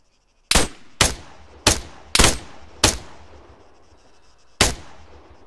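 Six loud rifle shots ring out in Arma 3, evenly spaced at first and then a longer pause before the last, each a sharp crack trailing off into echo.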